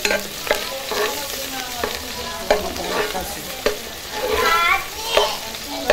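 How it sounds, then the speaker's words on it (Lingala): Celery being stirred as it fries in a pot, with a steady sizzle broken by repeated scraping strokes of a utensil at an irregular rhythm, close up and with no talking. "tobwaki na céleri na biso ndambu awa nde tobanda kobalola tobelisa nanu ndembi na biso na céleri"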